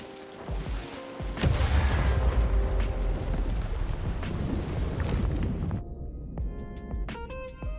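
Ship cannons fire in Sea of Thieves, heavy booming blasts rolling into a sustained rumble, fading into lighter clanks and thuds at the end with no talking.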